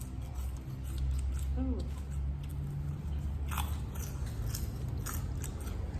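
Someone eats spicy seafood papaya salad with squid and shrimp, with close crunchy bites and chewing over a background hum while a voice speaks.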